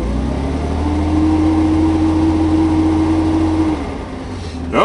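Close, steady engine drone from a Chevrolet Monza as the throttle is held, easing off near the end before a brief rising rev.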